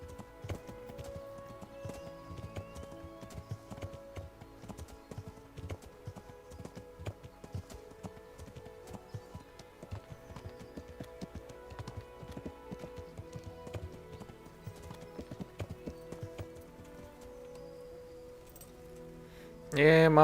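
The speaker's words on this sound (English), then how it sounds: "my horse looks cooler than yours, Sir Radzig." Steady rhythmic hoofbeats of a horse clip-clopping at a walk in the video game Kingdom Come: Deliverance, with faint jingling tack and soft background tones, ending in a brief louder burst.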